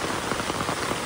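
Heavy rain pouring down on a flooded farm at night, a dense, loud, continuous hiss of drops hitting water and ground.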